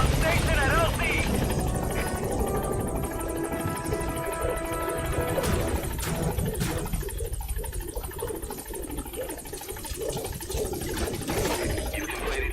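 A support helicopter in the video game Metal Gear Solid V approaches a landing zone, its rotor thumping and engine whining steadily throughout, with a voice talking over it.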